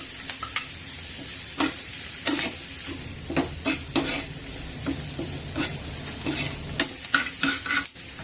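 Chopped garlic frying in a pan with onion for a Karnataka-style curd seasoning, a steady hiss and sizzle broken by repeated scraping stirs of a utensil, close up, no talking.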